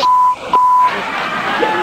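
Censorship bleeps cover explicit words in an old interview with rappers, a loud steady tone sounding twice in quick succession with a short gap, followed by muffled talk and noise.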